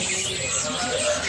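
Caged birds chirping at the Pramuka bird market, a dense, continuous wash of tweets and calls with a faint coo or two mixed in, steady and fairly loud throughout.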